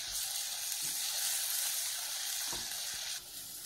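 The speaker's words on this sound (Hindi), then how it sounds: "सबको थोड़ा सोते करेंगे, इसकी रॉ स्मेल निकल जानी चाहिए अदरक मिर्ची लहसुन की।" Onion, ginger, chili and garlic paste sautés in a pan with a steady close sizzle and hiss, broken by a few soft stirring scrapes, fairly quiet throughout.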